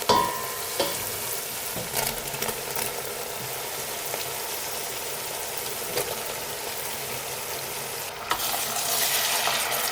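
Finely chopped liver sautés in a pan for traditional Greek boubari offal sausage: a steady, dense sizzle, close and fairly loud, with a few sharp clicks of stirring and a slight lift in intensity near the end.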